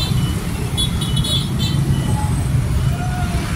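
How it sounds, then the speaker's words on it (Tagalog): Street traffic beside a rainforest park walkway, with a steady close rumble of passing cars and engine noise filling the background and a few faint high tones. "Traffic guys, traffic."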